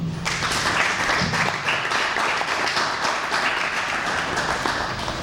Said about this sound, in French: j'invite encore un tonnerre d'applaudissements pour cela